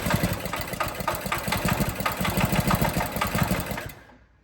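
An abandoned go-kart's small engine runs roughly as it starves for fuel, chugging in a fast uneven knock with no voices before it cuts out and the sound dies away near the end.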